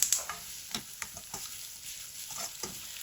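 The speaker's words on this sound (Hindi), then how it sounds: "इनको थोड़ा सा फ्राई करेंगे कि इनका कच्चापन जो है ना वो ख़त्म हो" Pieces of apple gourd (tinda) frying in oil in a pan, a soft sizzle broken by several scraping stir strokes and light clinks, fairly quiet and close.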